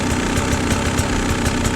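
A two-stroke engine fitted with a Keihin PWK carburetor idles steadily nearby, a dense, continuous low rumble with quick, regular firing pulses and no voices.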